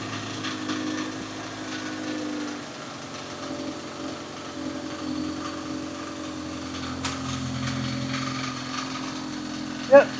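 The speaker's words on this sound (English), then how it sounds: "You can hear a rattling. That's the alternator." An idling MK2 Golf GTI engine with a steady low hum and a faint rattle from the alternator, running continuously and fairly close, with a brief sharp knock near the end.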